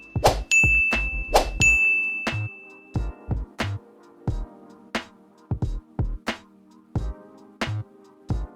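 A bright notification bell ding sound effect rings out repeatedly, a string of sharp metallic chimes with ringing tails. The chimes come near and clear over a soft musical bed with a steady rhythmic pulse, and no voice is heard.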